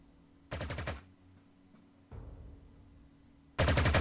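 Anti-aircraft guns in the WWII strategy game Panzer Corps 2 fire two loud rapid bursts of about six to seven shots each, separated by a fainter, rumbling blast and quiet gaps.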